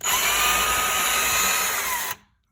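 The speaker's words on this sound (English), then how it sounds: "Okay, so I drill the hole in there" A handheld power drill bores a pilot hole in a window frame with one steady, loud, high whine that lasts about two seconds and then cuts off.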